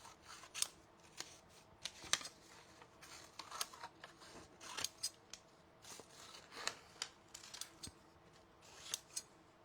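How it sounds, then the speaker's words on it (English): Big scissors snip through watercolor paper in a steady run of crisp, close, quiet cuts, brief clicks and rustles scattered irregularly across the stretch, with no voices. "usually what I do is cut them down like this, kind of small with the big scissors"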